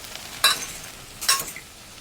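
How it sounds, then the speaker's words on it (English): Canned green beans are tossed with melting butter in a pan, giving two short bursts of scraping, clinking stirs over a faint sizzle. "We add 2 tablespoons of butter. And we're going to toss that"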